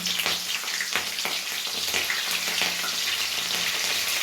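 Mustard seeds, garlic and curry leaves sizzle and crackle in hot oil for a tempering, a loud continuous frying hiss with small pops throughout.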